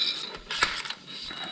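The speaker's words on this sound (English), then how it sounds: "let's take this jack out" A jack is lowered and pulled out from under a freshly installed 2332cc air-cooled VW stroker engine, giving a faint, short run of mechanical creaks, clicks and ratcheting rattles with no speech.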